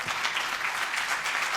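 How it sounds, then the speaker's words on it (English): Audience applause at the Wescon 2022 presentation, a dense steady clapping from many hands that holds evenly loud throughout, with no voices over it. "Can we have a big round of applause"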